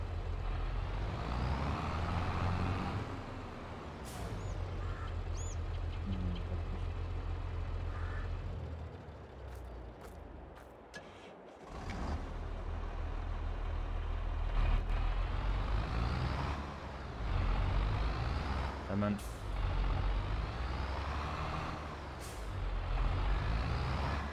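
Tractor engine in Farming Simulator 22, a steady low diesel rumble running throughout with occasional hissing air bursts and short clanks, fairly close and continuous.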